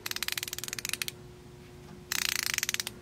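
Duralast 90-tooth encapsulated ratchet clicking: two quick runs of fine, rapid, evenly spaced clicks, close and crisp, separated by a second of quiet, with no voice.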